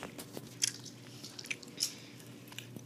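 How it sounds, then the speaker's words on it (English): Skittles candy being chewed close up: soft crunches and wet squishy bites come in an irregular rhythm, with a few sharper clicks standing out over a quiet background. "Keep chewing, come on. I'm chewing."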